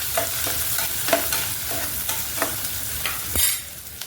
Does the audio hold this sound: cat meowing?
no